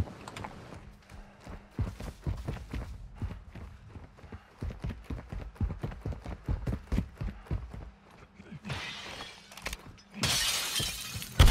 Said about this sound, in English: He smashed glass from the left.